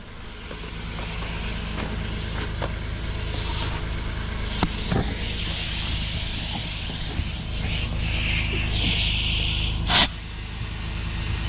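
Air hisses steadily from a compressor hose as a leaking vehicle tire is inflated outdoors at night, a broad continuous rush with a low engine-like rumble underneath and a few sharp bursts and clicks, one louder burst near the end.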